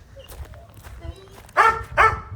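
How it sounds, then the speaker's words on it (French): A dog gives two loud, close barks near the end after quieter yips and whimpers, with a voice talking in the background. "quand je m'écarte, il va aboyer, regardez"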